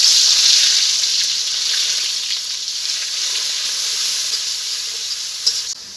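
Grated onion, ginger, garlic and green chillies fry in hot oil, giving a loud, steady sizzle that holds for the whole stretch, with a soft clink near the end and no voices.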